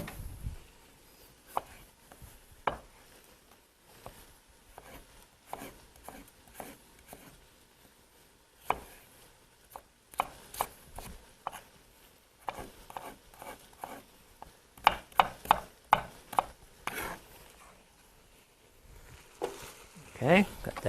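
Mushrooms being stirred in oil in a pan, with a utensil scraping and tapping against the pan in irregular bursts, a cluster of sharper knocks near the end, and a quiet sizzle beneath.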